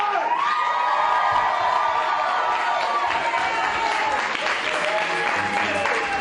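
A concert audience at a live show bursts into loud applause with cheers and whoops, dense clapping and shouting sustained for several seconds, with voices mixed into the crowd noise.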